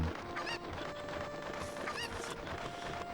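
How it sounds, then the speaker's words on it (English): Chickens clucking in The Legend of Zelda: Ocarina of Time, a few bright game-style squawks and clucks, including two sharper calls, over a dense background of game noise, fairly faint. "look at all those damn chickens"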